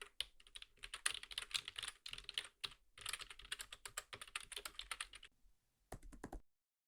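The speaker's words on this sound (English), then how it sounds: "quickly typing the selection sort algorithm here." Rapid, steady typing of Java code for a selection sort algorithm on a computer keyboard, with dense, close key clicks and short pauses, ending in a final burst before silence; no talking.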